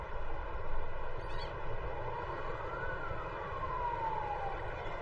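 Ambulance siren sounding at a distance, a faint wailing tone that sweeps slowly up and down over a steady low background rumble, with no talking.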